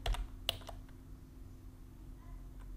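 Quiet clicks of typing on a computer keyboard, a few sharp keystrokes near the start and then sparse soft taps over a low steady hum.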